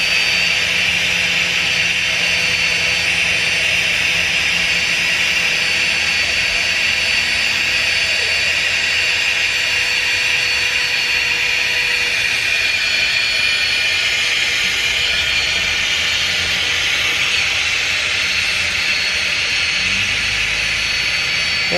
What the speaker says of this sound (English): I can hear the pump working harder.